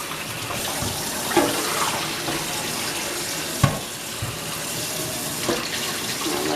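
Running tap water pours steadily into a kitchen sink while raw chicken gizzards are rinsed under it, with a few soft knocks and splashes rising briefly above the continuous rush.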